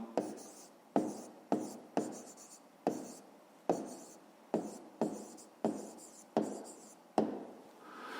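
A pen scratches across paper in a series of about a dozen short strokes, each starting with a crisp tap and fading out, close and fairly quiet with brief pauses between marks.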